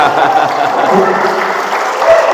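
Seminar audience clapping in dense, continuous applause that fills the room, loud and close, with voices mixed in throughout.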